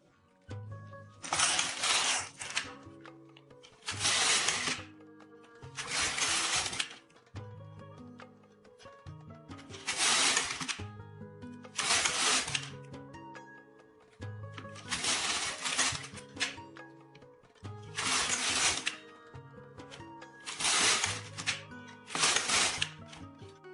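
A home knitting machine carriage is pushed back and forth across the needle bed, and each pass makes a loud, rattling, clacking sweep. Ten rows are knitted in an even rhythm with short pauses between passes, and no voice is heard.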